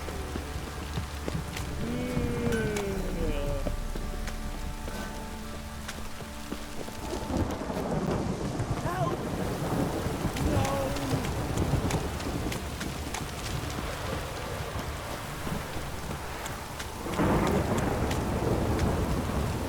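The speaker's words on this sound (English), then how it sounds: "This downpour's a bastard" Steady rain pours with low rumbles of thunder rolling through in The Witcher 3 video game, a dense wash of noise with a louder burst near the end.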